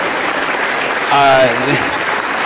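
A lecture audience claps for someone being honoured, steady applause throughout, with a voice calling out briefly over it midway.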